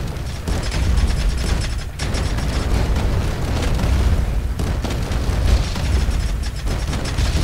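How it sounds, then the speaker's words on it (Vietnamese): Cannons fire in the Roblox game Pirate Clash during a ship battle, with loud, heavy booms bursting out at irregular intervals over a constant rumbling mechanical din, and no voices. "Đại bác này."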